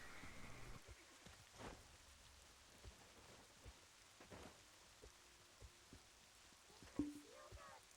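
Soft, steady rainfall from the video game Black Desert patters quietly throughout, with a few faint thuds and a brief tone near the end.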